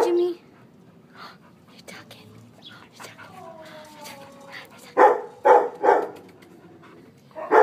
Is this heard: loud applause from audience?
no